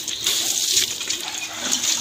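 Running water spraying while a motorbike is washed at a small servicing spot, a steady close rush and splash with slight surges throughout, no voices over it.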